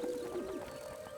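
Doves coo in an animated show, a soft, steady low cooing tone that stays faint and continuous with no talk over it.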